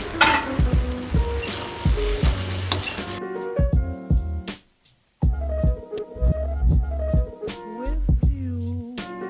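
Bottle gourd (ghiya) frying in a pan with hot oil, crackling sizzle under repeated scraping and stirring strokes of a spoon, steady and close, with a brief quiet pause midway.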